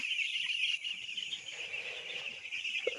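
A dense chorus of five-day-old chicks peeping nonstop in a poultry shed, high and steady, like many birds calling together indoors.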